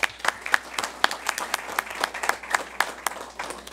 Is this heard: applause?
yes